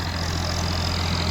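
A tractor engine runs steadily during a dusty mustard harvest by machine, a loud continuous low drone with no pauses.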